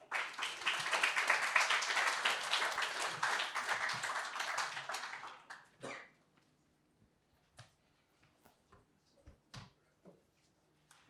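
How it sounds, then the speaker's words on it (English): Audience applause at a spring demo fair in New York, a dense burst of clapping for about five seconds that then thins out to a few scattered claps and small noises. "Give one more round of applause to all of the presenters this afternoon."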